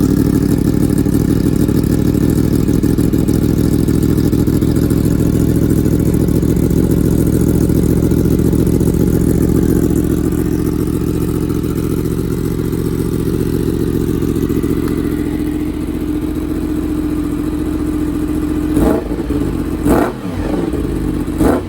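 A Yamaha motorcycle with a cheap aftermarket SC Project-style exhaust idles after a cold start, a steady loud low rumble that runs unchanged, then a few sharp revs near the end.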